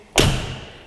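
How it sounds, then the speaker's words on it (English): A Scania 164L truck door, on a 2003 V8 under restoration, shuts with a single solid, heavy thud that rings briefly and fades, close and loud, with no talking. "This is the door closing sound, which you are very familiar with in Scania."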